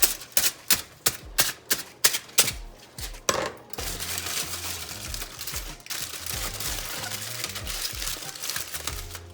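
A fork jabs and scrapes through a covered soul food dish: about eight sharp, close clicks and pokes in a steady rhythm, then a denser, continuous crinkling scrape with soft low thumps.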